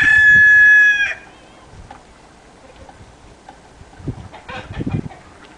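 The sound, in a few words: chickens clucking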